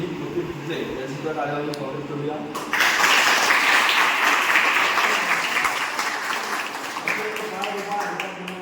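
An audience bursts into sustained applause for the competitors at a fort-building contest prize ceremony. The clapping swells suddenly after a few seconds of murmuring and stays loud and dense to the end, with voices faintly underneath.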